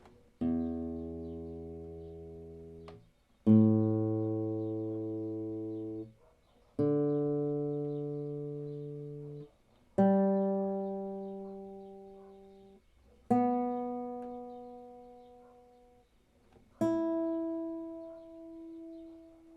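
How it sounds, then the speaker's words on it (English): Six plucked guitar strings in standard tuning ring out one at a time, each left to sustain and fade for a few seconds before the next, with no talking. "This is a standard tuning guitar."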